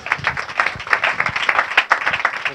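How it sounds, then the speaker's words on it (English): Steady audience applause at a medical forum panel, a dense wash of many hands clapping continuously for a few seconds at close-to-mid distance, with no voices over it. "let's have a round of applause for that"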